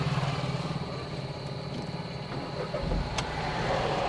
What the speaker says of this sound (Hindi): चलिए सबसे पहले गाड़ी स्टार्ट कीजिए।